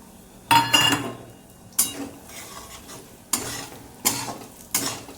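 Desiccated coconut frying in hot oil over a low gas flame, with a faint sizzle under five distinct scraping bursts of a spatula stirring against the pan at uneven intervals.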